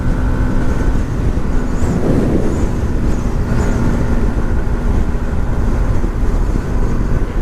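A 2018 Yamaha MT 125 motorcycle cruising at speed, steady loud broadband wind and engine roar filling the whole stretch without letup.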